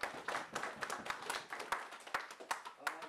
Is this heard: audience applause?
yes